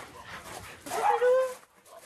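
A boarding-hotel dog for dogs and cats on the Côte d'Azur gives a few close whimpering yips and a short bark, rising to a loud cry near the middle with faint background chatter.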